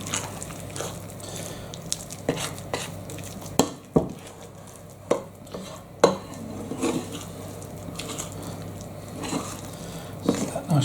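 A spoon works through a thick boiled fruit cake mix in a bowl, with irregular clinks and scrapes against the bowl and soft squelching in between, close and moderately loud.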